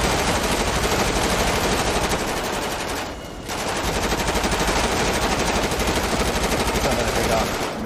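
Sustained automatic assault rifle fire in GTA 5, a dense, loud, continuous rattle for nearly eight seconds with one brief dip near the middle, and no talk over it.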